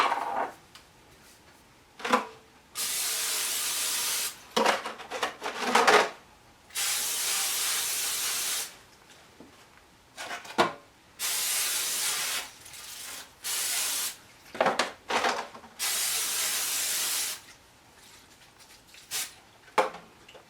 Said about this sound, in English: I have to spray my pans.